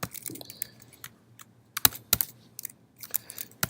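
Commands typed on a computer keyboard, sharp clustered keystrokes and quick bursts of clicks spread across a few seconds over a quiet room hum, with no talking.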